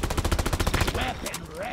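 Rapid automatic gunfire from a weapon in Deep Rock Galactic, a fast steady burst of close, loud shots lasting about a second before breaking off into quieter game sounds.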